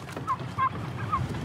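Turkeys on a farm before Thanksgiving gobble in three short, nasal calls over a low background murmur, close and clear.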